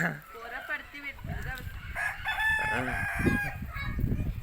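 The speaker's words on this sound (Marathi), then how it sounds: "असा आहे मित्रांनो पाठी लागणारा कोंबडा" A rooster crows loudly nearby with a long, wavering call, accompanied by clucking and other bird sounds and some background voices.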